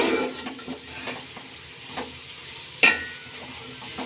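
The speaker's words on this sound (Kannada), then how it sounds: "ಈಗ ಈರುಳ್ಳಿನ ಚೆನ್ನಾಗಿ ಫ್ರೈ ಮಾಡ್ಕೊಳ್ಳೋಣ ಎಣ್ಣೆಲೆಲ್ಲ ಫ್ರೈ ಆಗಲಿ ಮೊದಲು" Onions frying in oil in a pan: a soft, steady sizzle with intermittent light stirring scrapes and one sharper clack near the end, close and without voices.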